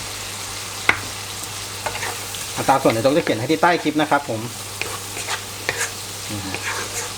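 Large pieces of pork belly sizzle and are stirred in a pan for a basil stir-fry with seasoning sauce, with bursts of crackling frying and scraping stirs in the middle while someone talks over it.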